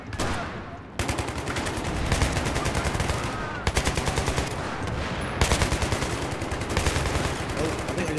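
Rapid automatic gunfire and bursts of shots from the video game Battlefield 3, loud and continuous with repeated volleys, mixed with game sound effects.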